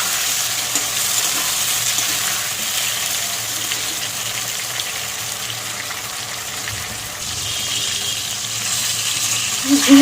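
Sliced ridge gourd and potato frying in oil in a pan, a continuous close sizzle with stirring scrapes that stays loud and even, plus a brief clink near the end; no talking.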